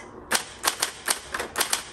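A 1962 Smith Corona 200 manual typewriter gives a string of about eight sharp, close mechanical clicks in an uneven rhythm, some in quick pairs, with no voices.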